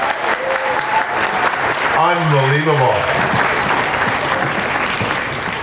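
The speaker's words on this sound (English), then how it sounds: "Round of applause, amazing guys." Sustained applause from a pow wow audience after a Métis jigging performance, steady clapping throughout with a voice speaking over it midway.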